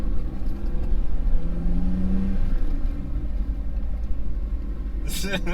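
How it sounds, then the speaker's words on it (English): An old manual car's engine rumbles and revs low and steady as it pulls away, heard from inside the cabin with someone talking over it. "Gotta put a little gas in it before I put it in the clutch."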